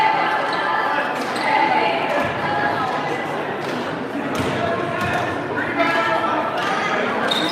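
A basketball bounces during free throws at a boys' varsity game in a gym, its dull thumps sitting under loud, constant crowd noise and an announcer's commentary.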